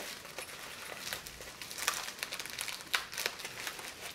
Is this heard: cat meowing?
no